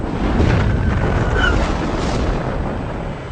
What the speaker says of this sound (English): rancher W.W. Mac Brazel awakened to an ear-splitting explosion